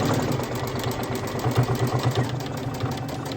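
A sewing machine stitches a rag quilt through cotton batting, a close, rapid mechanical chatter of needle strokes over a steady motor hum.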